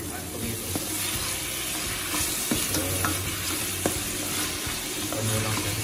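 Onion and tomato sautéing in a hot pan give a dense, constant close-up sizzle with occasional soft spatula scrapes and clicks throughout.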